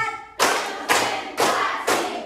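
A classroom of children clapping their hands together in a counting game, four loud, evenly spaced claps with sharp attacks, close and alone.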